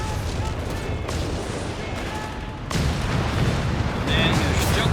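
Rocket artillery barrage in the World War II strategy game Company of Heroes 3, a dense rumbling roll of explosions that swells louder partway through, with battle noise layered over it.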